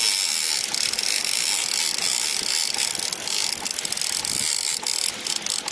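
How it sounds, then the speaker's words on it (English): A fishing reel is wound in slowly, producing a steady, close ratcheting whirr that carries on without pause, with no voices. "I'll try to reel it in nice and slow, I guess."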